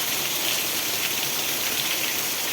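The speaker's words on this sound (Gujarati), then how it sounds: "કેટલો અતિ ભયાનક વરસાદ પડી રહ્યો છે." Heavy rain driven by wind pours down on a village rooftop, a constant dense hiss of drops and runoff, loud and unbroken, with no voices.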